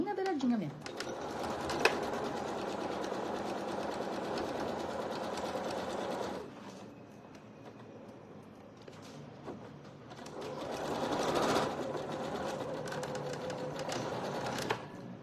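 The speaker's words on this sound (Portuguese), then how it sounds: "E vou fazer uma costura bem na beiradinha." A sewing machine runs a seam along the edge of fabric in fast rapid-fire bursts, stitching for several seconds, pausing, then starting again, with someone talking quietly over it.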